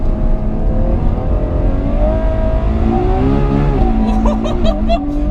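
A Ferrari 812 Superfast's big engine revs and surges while being driven hard on a track, a loud, close roar that climbs and dips through the gears with a brief tire squeal near the end.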